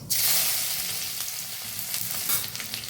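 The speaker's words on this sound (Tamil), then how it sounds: "வெங்காயம் நல்லா வதங்குற மாதிரி அதை கிளறி விட்டுக்கலாம்" Sliced onions frying in oil with crackled cumin seeds, a loud, dense hiss right from the start that stays strong and steady while they are stirred, close by with no voices.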